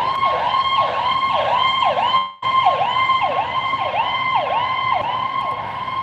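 An emergency vehicle siren wails loudly in steady, repeating rising-and-falling sweeps, with a brief dropout midway before the cycle carries on.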